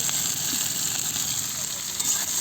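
Onions and tomatoes frying together in oil with chopped garlic and ginger, giving a steady, loud, continuous sizzle and hiss from a close pan, with no talk.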